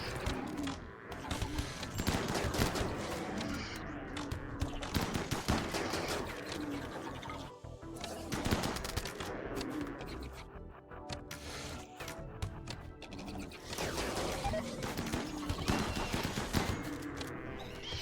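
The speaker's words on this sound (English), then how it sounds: "In the process of shooting at the bugs, a stray bullet hit one of the thrombos" Rapid gunfire rattles in RimWorld as colonists shoot at bugs on iceberg sea ice, bursts of automatic fire repeating through a chaotic fight with a busy, dense background.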